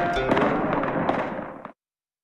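Chinese New Year fireworks play from a video, giving a burst of crackling pops and bangs over a dense hiss that cuts off abruptly after under two seconds.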